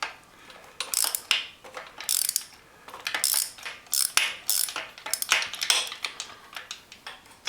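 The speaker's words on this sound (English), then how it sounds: "Looks like a 5/8 socket for these plugs, and I'm using one of those little U-joint deals." Ratchet on a 5/8 socket with a small U-joint adapter, working the spark plugs out of a 1972 Honda CB750, clicks in close, bright bursts of rapid pawl ticks that start and stop irregularly with no talking.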